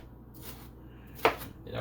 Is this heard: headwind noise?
no